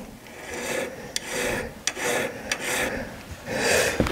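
A hand file rasps across a metal plate held at an angle at a goldsmith's bench, giving repeated close, steady strokes in an even back-and-forth rhythm with brief sharp clicks between passes.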